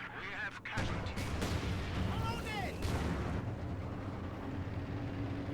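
An artillery barrage lands on advancing infantry in Company of Heroes 2 on the Steppes map, a steady rumble of shellfire and scattered blasts heard beneath commentary.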